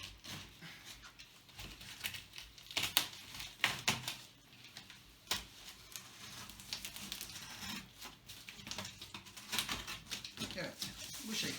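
A cardboard shipping box holding an A320 HDV motherboard is opened up close, with sharp tearing, crinkling packaging and scattered taps and clicks in irregular bursts, and quiet talk at times.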